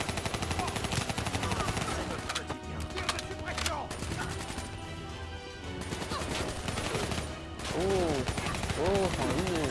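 Gunfire in the video game Call of Duty Black Ops 3, with rapid automatic bursts and single shots under a constant dense mix of game sound effects and music, loud and continuous.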